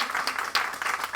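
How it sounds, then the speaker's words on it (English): Audience applause at a Rusk County community and public health nursing practicum town hall, a short burst of clapping, dense and fairly steady with no talk over it. "So if we can all just give her a round of applause."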